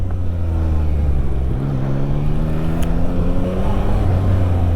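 A 2025 Yamaha MT-09 A2 motorcycle on a ring road hums steadily as it rides, its engine tone climbing gently as it gains speed. The engine runs close and continuous, with no talk.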